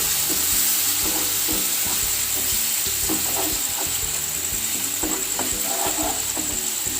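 Tomato paste sizzles and fries in a hot pan as the base for a mutton curry, a steady loud crackle with occasional stirring scrapes throughout.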